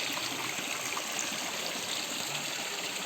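Clear mountain stream water flows along a hiking trail in Margalla Hills National Park, Islamabad, a steady, close, unbroken rush and hiss with no voices over it.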